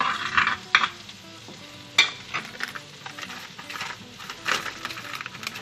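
Minced garlic sizzles in melted butter in a pan over medium heat, with a soft continuous crackle broken by several sharp utensil scrapes and clinks as it is stirred.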